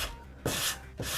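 Hand sanding on wood along the grain, two rasping strokes back and forth, close and even, with a soft scratchy texture.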